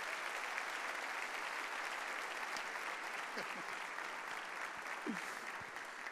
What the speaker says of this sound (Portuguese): vamos aplaudir esse homem de Deus